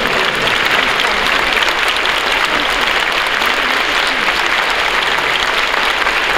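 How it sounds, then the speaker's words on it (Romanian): Loud, sustained applause from an outdoor audience in Botoșani's historic centre greeting the Botoșani Philharmonic Orchestra, a dense steady wash of many hands clapping throughout. "Și aplauze. Orchestra Filarmonică din Botoșani."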